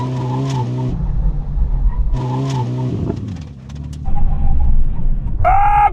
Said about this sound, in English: Now we're going to have a brake test from 100 miles an hour.